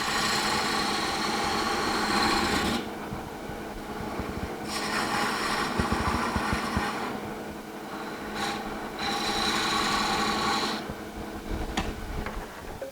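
Wood spindle turning on a lathe, a cutting tool working the spinning stock: a steady near motor drone with bursts of scraping cut noise that start and stop several times, no talk.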